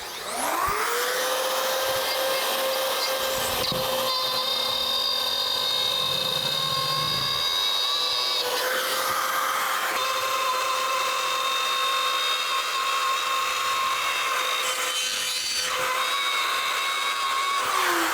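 A RotoZip spiral saw cuts a 1.5 inch hole during a bathroom shower install, giving a loud, sustained high-pitched whine up close that runs steadily for about eighteen seconds, shifting slightly in pitch as the bit bites.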